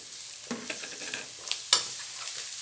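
Carrot fries with garlic, onion and turmeric in a pan for rice with country sausage, a soft sizzle under a few scraping stir strokes and one sharper clack near the end.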